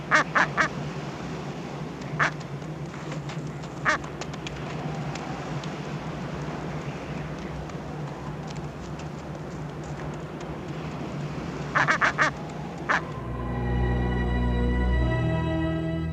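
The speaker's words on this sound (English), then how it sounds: "these inquisitive birds, which swim like dolphins and walk like men, will be their ever-present, ever-entertaining companions" Inquisitive Antarctic seabirds that swim like dolphins call in brief, scattered squawks over a steady windy hiss, sometimes in quick clusters, before a louder low rumble takes over near the end.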